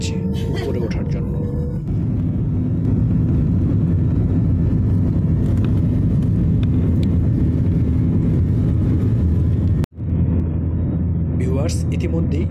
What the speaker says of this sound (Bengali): ইতিমধ্যেই টার্কিশ এয়ারলাইন্সের ফ্লাইটটি আকাশে উড্ডয়ন করেছে